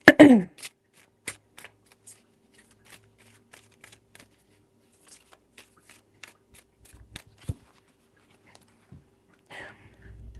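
A tarot deck gets a few sharp shuffles and taps, brief isolated clicks and riffles spaced across a quiet room, close and crisp.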